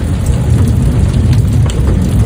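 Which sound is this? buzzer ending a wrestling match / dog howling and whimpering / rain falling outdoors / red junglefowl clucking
rain falling outdoors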